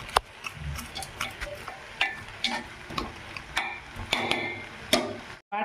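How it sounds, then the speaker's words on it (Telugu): A spoon stirs spicy country chicken curry in a pot, giving repeated scraping clinks and soft wet shuffles in an uneven rhythm, close and moderately loud, with a faint sizzle underneath and no talking. "అది కూడా బాగా కలదిప్పుకుందాం."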